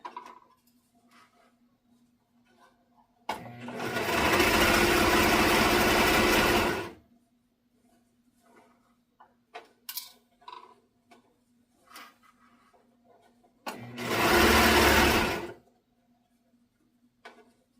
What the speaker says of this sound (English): Denim in the Serger?